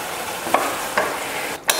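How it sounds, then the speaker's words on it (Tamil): Curry gravy for parotta bubbles in a pan as oil separates, a steady close sizzle broken by a few short spits and bubbling pops. "குழம்பு நல்லா கொதிச்சு எண்ணெய் தெளிஞ்சு வர ஆரம்பிச்சிருச்சு."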